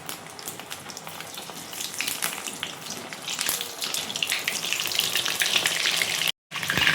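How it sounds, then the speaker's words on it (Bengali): Chana dal puli fry in hot oil, a dense crackling sizzle with popping bursts that build gradually in loudness, close up, broken by a short cut near the end. "পুলিগুলি আমি ভেজে নিচ্ছি।"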